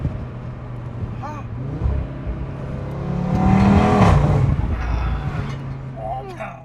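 An Audi RS3 fitted with a custom downpipe and midpipes drives along, its engine and exhaust droning steadily and swelling into a louder rev midway before settling back, with a few brief vocal sounds over the top.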